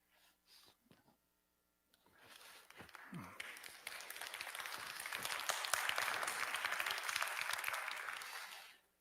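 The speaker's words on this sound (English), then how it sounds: "Let's welcome Chairman Kim Gap-soo with a big round of applause." An audience at an arts and culture world summit breaks into sustained applause welcoming a chairman, building after brief speech to a steady, dense clapping that holds for several seconds before tapering off.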